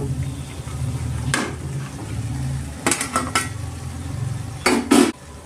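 Rice is stirred into fried grated mango in a pan for mango pulihora. A steady low frying hum is broken by several sharp clatters of a metal spoon against the pan.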